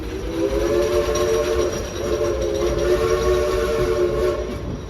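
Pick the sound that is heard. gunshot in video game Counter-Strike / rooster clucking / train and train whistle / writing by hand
train and train whistle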